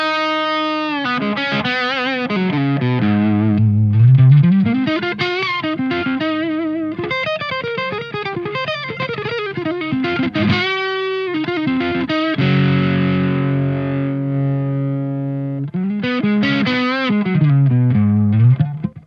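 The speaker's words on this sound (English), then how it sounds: "I get those smooth kind of Marshall JCM800 like tones" Electric guitar played through an ADA MP-1 tube preamp with chorus, overdriven into a smooth, singing distorted tone, with sustained bent notes, sliding phrases and a few chordal stabs, loud and close with no talking.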